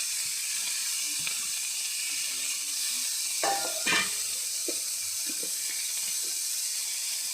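Greens and green chilies frying in a pan give a steady, close sizzle throughout, with a few light stirring knocks and scrapes partway through and no voices.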